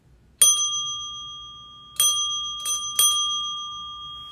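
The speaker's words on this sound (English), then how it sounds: "where's that bell coming from?" A bright bicycle-style bell dings four times at uneven intervals, each ring sharp and clear, then lingering and fading in an otherwise quiet room.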